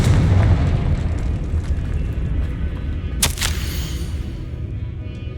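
In the Hogwarts Legacy video game, a Confringo spell goes off as a single sharp, loud burst partway through. It cuts through a steady rumbling game background, and nobody speaks.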